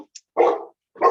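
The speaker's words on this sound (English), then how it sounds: "my dog is" A dog barks indoors during an online conference session, two loud close barks with a short yip between them, clear and unaccompanied by speech.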